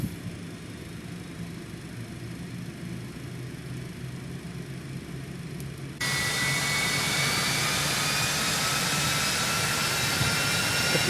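Cessna Citation X jet engine starting up in X-Plane 12, a low rumbling spool that suddenly jumps to a loud, bright, steady whine halfway through, alone without talk.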